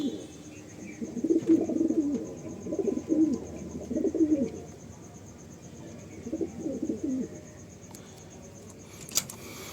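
Male pigeons coo in rhythmic, throaty bursts that rise and fall, close by, with short pauses between phrases and a faint steady hiss behind them.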